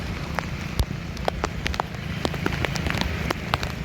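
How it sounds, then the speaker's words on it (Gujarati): Monsoon rain pours over flooded Pasodara beside an overflowing creek, a steady hiss of rainfall dotted with sharp individual drops striking nearby surfaces. No voices are heard. "વરસાદ પણ ચાલુ છે"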